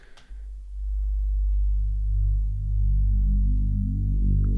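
A synth tone with its resonances sweeping open under automation, giving a cyberpunk feel: a sustained, loud drone whose harmonic overtones climb and stack up one after another, heard alone with no talking.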